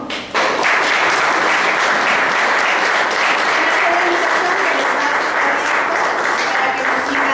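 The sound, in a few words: audience applause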